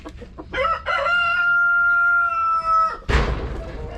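A rooster crows loudly and nearby, a long drawn-out cock-a-doodle-doo, followed by a sharp burst of noise; brief clucks come just before.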